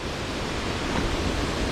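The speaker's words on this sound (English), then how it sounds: "we spotted what looked like a little waterfall" A roadside waterfall off Tongass Highway near Ketchikan roars in a steady, dense hiss, pouring rain blending into the constant rush of falling water close by.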